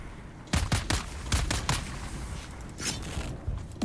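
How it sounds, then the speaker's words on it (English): Gunfire in Dune Awakening: a series of sharp, close shots in an irregular burst, some spaced and some clustered, standing alone without any talk. "I'm gonna keep shooting"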